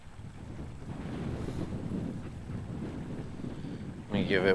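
Wind blows at Wall Canyon Reservoir in Nevada during a fishing outing, rumbling and buffeting the microphone in a steady, fairly quiet roar, with a brief louder burst near the end.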